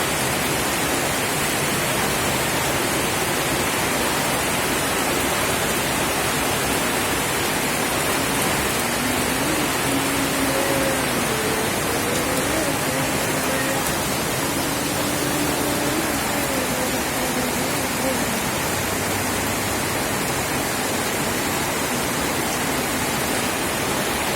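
Steady summer rain in Kerala pours down as a dense, even hiss that continues unbroken and loud throughout, with a faint tonal sound drifting briefly through the middle and no voices.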